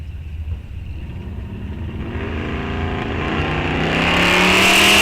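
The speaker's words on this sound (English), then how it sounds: "Clayton Kells now, left side in the 76 D100. Chevy S10 right side" A 1976 Dodge D100 and a Chevy S10 launch in a drag race at Rock Falls Raceway, engines building from a low idle rumble to a rising, roaring acceleration that grows steadily louder.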